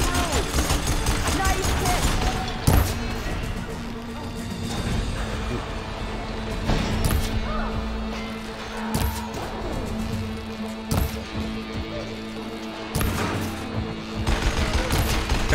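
Gunfire in Horizon Forbidden West, repeated sharp shots and short volleys spaced every second or two over a busy musical and mechanical game background, with a voice speaking in between.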